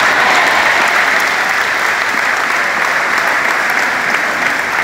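A church congregation claps steadily and loudly, a thick, continuous wash of applause filling the room without a break.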